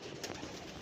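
Pigeons coo faintly on a rooftop during a pigeon-flying session, soft low calls against steady outdoor background noise with no talking.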